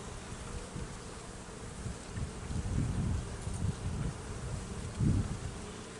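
Honeybees buzz steadily around an open hive during a spring inspection in a bee yard, a low droning hum that swells and fades as bees fly close past, with light wind and rustling in the background.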